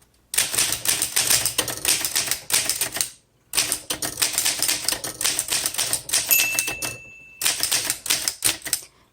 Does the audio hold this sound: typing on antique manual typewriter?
yes